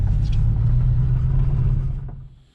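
A 1991 Ford Mustang Foxbody rolls into the shop, its engine rumbling low and close, steady at first, then dying away as the car stops, with no talking.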